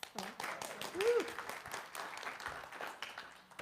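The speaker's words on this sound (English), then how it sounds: "You can give her a round of applause." Congregation applause in a church, clapping spread through the space at moderate volume, with a cheer and voices mixed in across the few seconds.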